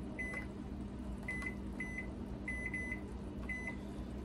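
A kitchen timer, or a microwave set as one, sounds a series of short electronic beeps in irregular single and double bursts, quiet over low background hum while Christmas crack candy boils on the stove.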